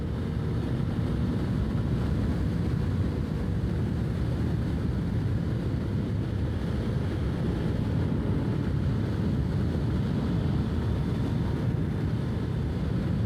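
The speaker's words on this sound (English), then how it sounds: "Breeze up here is really cool." Steady wind rush and breeze buffeting the microphone while riding a motorcycle along Greeley Hill Road and Highway 120, a constant loud low roar with no pauses.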